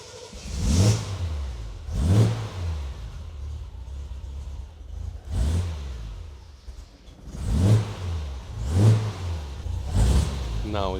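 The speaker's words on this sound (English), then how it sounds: "Okay, let's start the car again." A car with an intermittent overdrive fault starts and is revved repeatedly, giving six rising-and-falling engine surges at a moderate distance, each a couple of seconds long.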